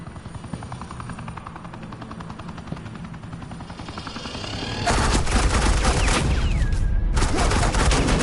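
Gunfire in a Batman animated episode starts as a steady rapid rattle under a helicopter's thrum, then bursts into loud, dense suppressing fire for the final seconds.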